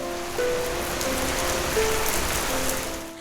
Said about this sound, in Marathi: आंबोलीत शनिवारपासून मान्सूनच्या सरी बरसू लागल्या आहेत